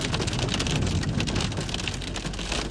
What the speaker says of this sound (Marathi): जाताना असा काही गारांनी आणि पावसानं जोरदार अटॅक केला